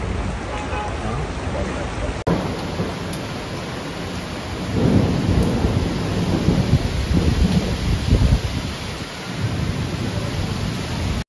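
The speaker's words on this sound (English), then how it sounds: "Intense rain and strong winds made visibility impossible beyond 50 m." Heavy rain roars steadily with gusty wind during a violent storm in Paris, the dense wash of noise swelling louder midway through, no voices.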